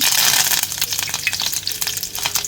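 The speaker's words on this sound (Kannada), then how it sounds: "ಒಮ್ಮೆ ಸಾಸಿವೆ ಸಿಡಿಯೋವರೆಗೆ ಅದನ್ನು ಫ್ರೈ ಮಾಡಿಕೊಂಡು" Mustard seeds and curry leaves fry in hot homemade coconut oil, making a loud, dense, continuous crackling sizzle with sharp popping spatters, close up and unbroken by talk.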